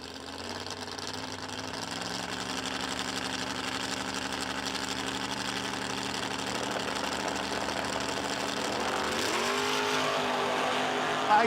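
A Dodge Charger and a Chevelle out of Missouri roar side by side at a no-delay drag race, engines droning steadily and building louder toward the end, with no voices over the run.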